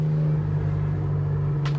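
A truck engine runs with a steady, close, low rumbling hum that holds an even pitch for a couple of seconds, with no voices.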